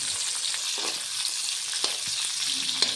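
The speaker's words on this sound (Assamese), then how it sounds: "তাত মিঠাতেল দি দুফুটামান নহৰু, কেঁচা জলকীয়া আৰু পিঁয়াজ দি ভালদৰে ভাজি লৈছোঁ" Garlic, green chilli and onion fry in mustard oil in a wok, giving a steady, close, hissing sizzle throughout with faint stirring scrapes and no voices.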